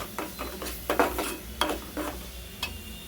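A spoon stirring egg curry with onion, ginger and chilli powder in a pan: a series of scraping, clinking strokes against the metal over a low sizzle, close and steady with no talk.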